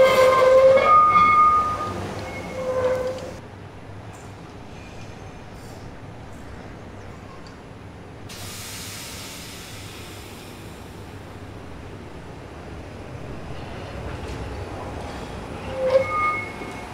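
The Santa Teresa tram (bonde) in Rio de Janeiro rolls along with a steady rumble and rattle of wheels on rails, a brief squeal near the start and another near the end, with no talk over it.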